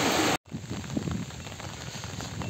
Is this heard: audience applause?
no